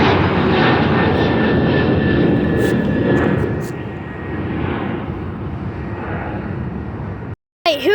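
An airplane takes off at Chicago Midway airport. Its loud engine roar fills the air throughout, easing slightly as it climbs away, with faint voices of nearby plane spotters underneath.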